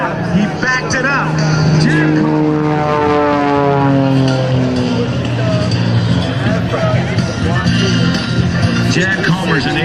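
An aerobatic propeller airplane hangs on its prop and backs down at an airshow, its loud engine droning near and steady with sweeping pitch glides as the prop note rises and falls, with an announcer's voice partly over it.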